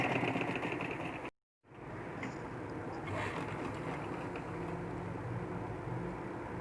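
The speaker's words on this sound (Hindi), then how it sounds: "जैसा कि आप ये देख रही हैं, सीधी सिलाइयाँ लगा रही हूँ।" A sewing machine stitches straight seams on fabric, a close, continuous mechanical whir with a brief stop and restart early on, alone without speech.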